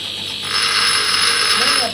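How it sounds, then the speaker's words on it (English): A rebuilt car driveshaft's welded areas are machined on a lathe, producing a steady high-pitched cutting whine that starts after a brief pause and runs evenly for over a second before dropping off. "So after welding he will machine those areas. Now he will machine those areas."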